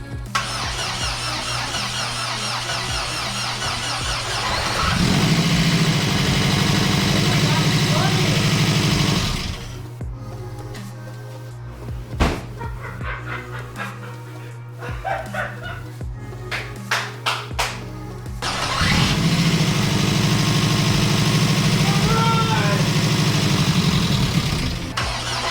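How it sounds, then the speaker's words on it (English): A VW Super Beetle with a swapped engine cranks and fires up for the first time, settling into a loud, steady idle with squealing overtones. Then it cuts off, leaving clanks and shuffling, and the motor runs again after a restart. "Okay, the car is now hot and it's ready for me to try and start it."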